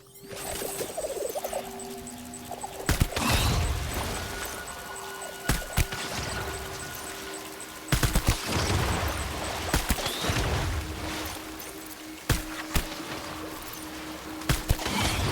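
Gunfire in the video game Death Stranding: a string of sharp, loud shots at irregular intervals, some in quick pairs, over a busy, noisy game soundscape with a steady high tone.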